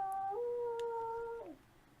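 A small pet dog lets out a drawn-out, wavering howl close by, rising then sliding down before trailing off into quiet room noise.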